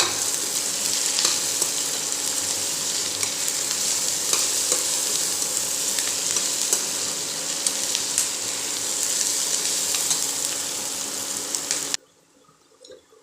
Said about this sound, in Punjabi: ਪਿਆਜ਼ਾਂ ਦੇ ਨਾਲ ਨਾਲ ਆਪਣਾ ਜੀਰਾ ਵੀ ਚੰਗੀ ਤਰ੍ਹਾਂ ਭੁੰਨਿਆ ਜਾਊਗਾ